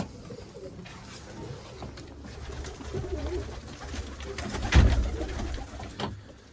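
Pigeons coo in low, throaty bursts amid captured runaway birds, a soft steady murmur of calls with a louder flurry near the end.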